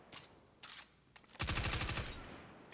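Automatic gunfire in the video game Destiny, with two short bursts early on and then a longer, loud, rapid rattle of shots with recoil running through the second half, with no talking.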